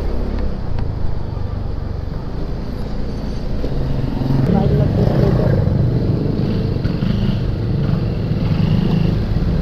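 A steady, loud motorcycle engine drone on an expressway, running continuously with road noise and a slight rise in intensity partway through.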